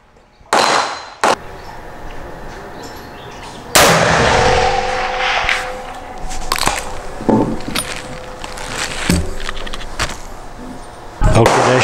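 A Thompson Contender single-shot handgun chambered in 7mm International Rimmed is fired outdoors at a target 380 yards away. Loud, abrupt reports and sharp clunks break through a rough, continuous background of wind-like noise.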